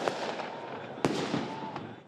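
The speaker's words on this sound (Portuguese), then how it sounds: "os manifestantes soltaram fogos de artifício" Sharp fireworks bangs crackle through a noisy outdoor crowd of protesters, one loud close burst standing out among smaller pops.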